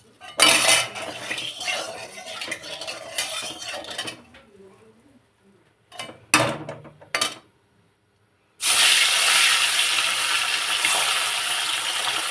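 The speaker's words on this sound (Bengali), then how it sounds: "এবারে আমি মাছটা ভালো করে ভেজে নেব" Fish frying in oil in a kadai, a loud steady hiss that fills the pan, broken up by gaps and bursts of clinking utensils and metal scraping against the cookware.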